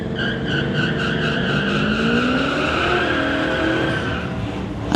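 Corvette and Chevrolet S10 drag racing at a Friday night street legal event, engines roaring steadily with rising, sweeping pitch and a tire-skid edge, loud and continuous throughout with no talk.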